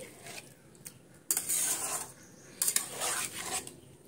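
Spoon scraping and stirring veg biryani in a metal pot after biryani masala goes in, two louder bursts of gritty scraping between quieter handling, close and with no talk.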